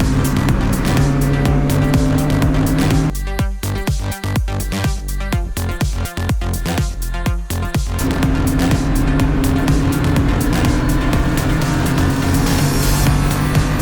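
Loud roaring race car engines at full throttle on an SCCA racing school track, cars rushing past in succession on the main straight, engine pitch shifting as they go by.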